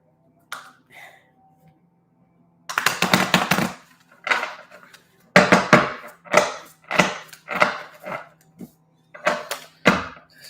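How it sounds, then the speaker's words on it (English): Tarot cards are shuffled by hand in repeated short riffling bursts, crisp and close, separated by brief pauses, with no talking over them. "I'm going to shuffle these up again"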